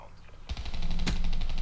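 A long-range gunshot in a first-person shooter game rings out as a sharp crack followed by a rapid, rattling burst of fire, loud and continuous through the rest of the moment.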